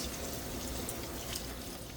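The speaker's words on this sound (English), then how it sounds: "I start by rinsing out with cold water to get all of the soda ash out of the shirts" Cold water runs steadily from a tap while tie-dyed shirts are rinsed, a close, even hiss and splash with no talking.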